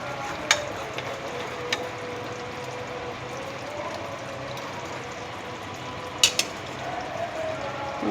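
Rohu fish pieces frying in a spiced pan: a steady soft sizzle and hiss runs throughout, broken by a few sharp clicks of a utensil as the pieces are turned.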